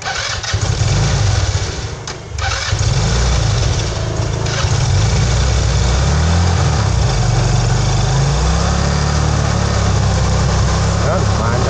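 A small engine that has not been tuned yet sputters to life and keeps running at a rough, uneven idle, loud and close, with someone talking over it.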